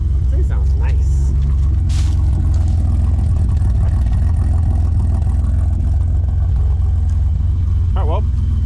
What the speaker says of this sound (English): car still runs